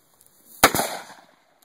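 A single gunshot fired outdoors during a shooting session, a loud sharp crack with a quick doubled report and a short fading tail, heard alone.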